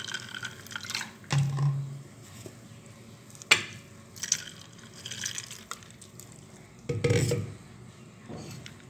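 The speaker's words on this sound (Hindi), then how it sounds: "साथ ही हम इसमें ऐड कर देते हैं मजीद स्प्राइट" Sprite poured into a prepared mint lemonade drink, giving soft liquid trickling and fizzing with a few brief splashes and clinks, moderately quiet with no voices.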